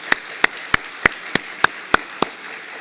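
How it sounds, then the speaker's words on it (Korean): Clapping during a Korean Holy Week special church service: eight sharp, evenly spaced hand claps in a steady brisk rhythm, crisp and close over a quiet background. "이때 박수 한번 치는 것이 좋을 거예요."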